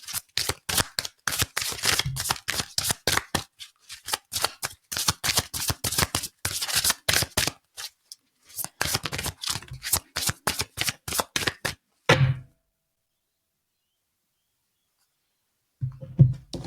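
Oracle cards being shuffled by hand in rapid, crisp riffling bursts, with short pauses between runs, close and fairly loud, then a few seconds of silence before a soft thump at the end.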